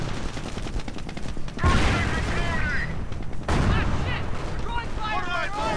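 Sniper rifle fire aimed at an anti-tank gun in a strategy video game, with two sharp, loud shot bursts rising out of a constant, dense battle din.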